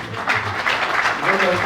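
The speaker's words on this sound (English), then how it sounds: "You can clap a bit louder." Audience applause in a conversation hall, a steady dense patter of many hands clapping at moderate loudness.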